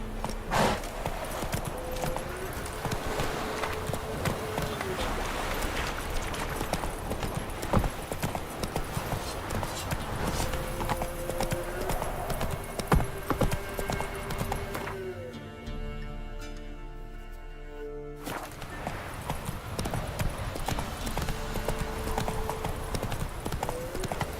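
Roach the horse galloping in The Witcher 3 video game, brisk rhythmic hoofbeats pounding steadily up close, broken briefly by a tonal musical passage midway before the gallop resumes.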